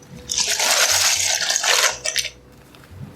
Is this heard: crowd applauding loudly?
no